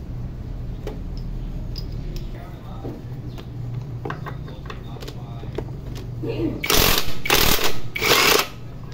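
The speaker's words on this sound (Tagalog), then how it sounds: "Laking tulong ng impact wrench." An impact wrench removes the rear shock bolts on an XR150L motorcycle, with loud, rattling bursts near the end that follow a steady low hum and scattered workshop clicks.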